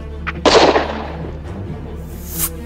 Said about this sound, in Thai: ปืนในมือนั้นลั่นตูมสวนออกไปทันควันเช่นกัน